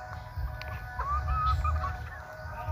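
Chickens in a backyard livestock pen with pigs, giving soft intermittent clucks and short calls against a steady low rumble, without talk.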